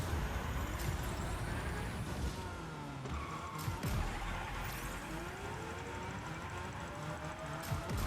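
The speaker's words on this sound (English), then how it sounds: "I'll hold my drift all the way to the finish line." A car holding a long drift in Rocket Racing, tyres skidding and squealing over a constant engine roar, with quick gliding pitch sweeps and faint clunks, steady and fairly quiet throughout.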